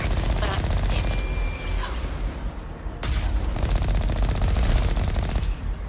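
Rapid, sustained turret fire in Mass Effect: Legendary Edition, loud clattering bursts with heavy booms, briefly dipping before resuming just as intensely, with no talk over it.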